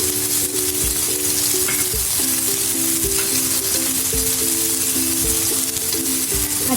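Curry leaves and green chillies fry in hot oil for a Kerala-style beef pepper fry, giving a loud, continuous sizzle with regular knocks from stirring.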